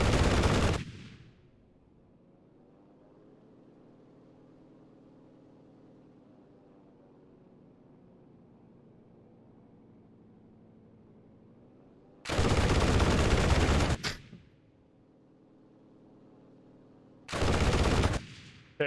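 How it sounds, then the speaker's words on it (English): Bursts of 20mm cannon fire from a WWII-era air combat video game tearing into a plane, three loud broadband blasts separated by a long low engine drone. "Pay no mind to the 20mm cannons that just fucking ripped into the back of this plane."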